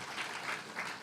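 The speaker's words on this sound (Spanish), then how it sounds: "Démele un aplauso, por favor" Faint, distant applause from a church congregation honoring theology students, a soft steady patter of clapping heard alone for a brief moment.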